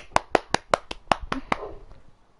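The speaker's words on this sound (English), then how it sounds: "I've got to clap." Eight sharp hand claps in a quick, slightly uneven rhythm, close and clear, then fading into quiet.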